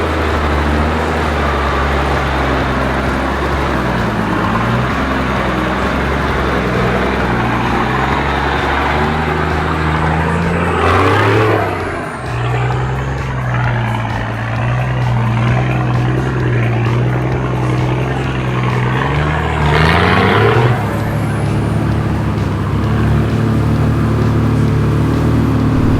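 A Toyota LandCruiser 80 Series four-wheel drive on 37-inch tyres grinds up a steep off-road climb, its engine droning loudly and steadily with gear and load changes, wind rushing over the microphone.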